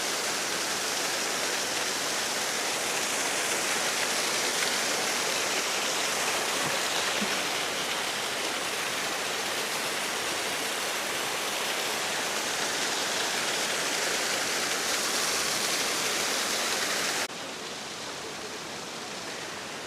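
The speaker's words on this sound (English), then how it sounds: "Perth's famous hidden waterfall." A hidden waterfall near Perth pours in a loud, continuous hissing rush, steady and close for the whole stretch before dipping slightly near the end.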